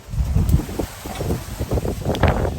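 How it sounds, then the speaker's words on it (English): Steady gusty wind roars and buffets the microphone throughout beside a 20-foot shipping container near woods, a broad rumbling rush with no voices. "it's a windy day"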